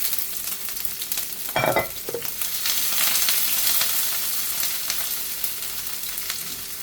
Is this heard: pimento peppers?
yes